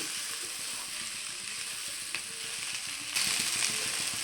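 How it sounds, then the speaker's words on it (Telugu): Okra frying in a pan over a medium flame, a steady close sizzle with occasional stirring scrapes and a brief louder burst near the end, no talking. "మనం మీడియం ఫ్లేమ్లో పెట్టుకుని ఇలాగా కలుపుకుంటూనే ఉండాలండి మీడియం ఫ్లేమ్లో ఉంటే బాగా ఎగుతుంది"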